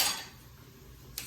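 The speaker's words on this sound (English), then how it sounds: "Stir it up." Garlic being stirred in a cooking pan gives a soft sizzle with a couple of faint clinks of a utensil against the pan, quiet and close.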